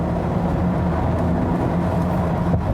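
Estate car engine on a wet Autobahn, a steady low drone with road and tyre rumble running throughout, constant and fairly loud with no talk.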